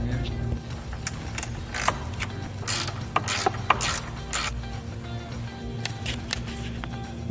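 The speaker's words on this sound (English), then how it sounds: "We're going to use the 10mm socket to remove this nut and connect the ground wire here." A 10mm socket ratchet removes a nut while an auxiliary switch panel is fitted in a vehicle, giving rapid clicking pawl bursts in short runs close up over a low steady hum.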